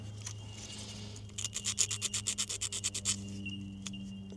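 Someone quickly rubs an ignition distributor cap from a long-idle Ford fire truck, a brisk run of about a dozen rhythmic scrubbing strokes, close and distinct over a low steady hum.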